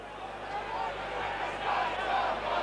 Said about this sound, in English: Crowd getting behind Leeds now, Devori.